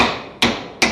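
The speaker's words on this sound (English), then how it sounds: "I use the soft mallet to get most of the shape down" A soft mallet strikes sheet metal while shaping a floor frame during fabrication, giving two distinct, fairly loud, close blows about half a second apart, each with a short ringing decay.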